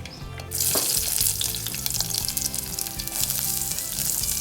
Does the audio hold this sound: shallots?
yes